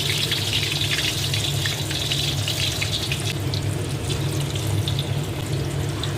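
Tofu pieces frying in hot oil, a steady, loud, continuous hiss and bubbling sizzle with no voices.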